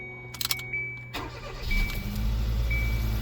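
A 2014 Kia Soul engine cranks with a brief chiming tone, then catches and settles into a steady running rumble.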